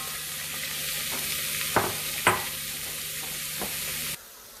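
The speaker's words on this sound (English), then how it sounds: "Now we're going to saute the onions" Onions sautéing in a pan for chicken posole soup, a steady close sizzle with a few sharp clicks of a utensil stirring, stopping abruptly near the end.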